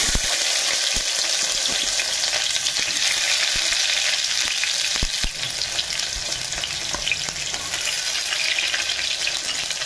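Chopped onions frying in oil with mustard seeds and curry leaves make a loud, continuous sizzle, close up, with occasional clicks from stirring.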